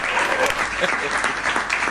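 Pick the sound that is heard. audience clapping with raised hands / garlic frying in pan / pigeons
audience clapping with raised hands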